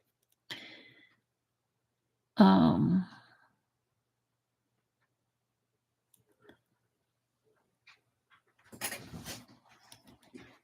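A dog nearby pants and whimpers indoors in a few short, separate bursts, with quiet gaps between them and no talking.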